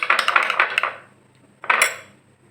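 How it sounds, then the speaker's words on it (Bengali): Sour yogurt whisked in a bowl for set sweet curd: a quick run of close clinking, scraping strokes, a pause, then a second short burst. "টক দইটা একটা বাটিতে ভালো করে ফেটিয়ে নিচ্ছি"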